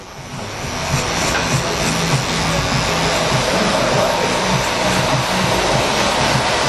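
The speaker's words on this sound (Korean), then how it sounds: "클리퍼를 이용해서 라인을 잡아주는데" A hair clipper fitted with a 3 mm guard trims the hairline during a men's haircut, giving a steady, close, loud motor buzz that runs unbroken throughout.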